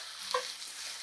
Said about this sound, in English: Mix everything well.